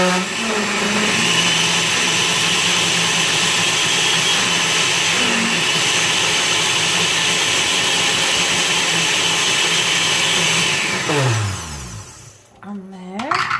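A blender whirs loudly and steadily for about eleven seconds while blending lentil hummus, then winds down and stops, followed by a brief bit of talk.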